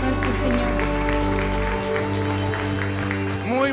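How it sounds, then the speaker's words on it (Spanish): A Spanish-language church congregation claps over sustained worship music at the end of a song, with steady applause under held keyboard chords and a few voices. "Un aplauso fuerte a nuestro Señor."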